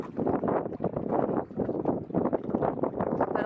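Wind buffeting a microphone beside a lake, a steady, dense low rumble with gusty surges that swell and fade throughout, loud and close with no other clear sounds.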